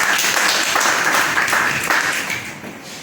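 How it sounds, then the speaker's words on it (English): A seated audience claps for a speaker at a public speaking event, a lively burst of many hands that fades toward the end. "Shall we put a hand of applause for her?"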